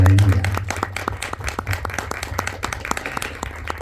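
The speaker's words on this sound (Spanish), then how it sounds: "un aplauso para nuestra gran presentadora" An audience at a book presentation applauds, a dense run of steady clapping from many hands that starts loud over a voice and then carries on alone at an even level.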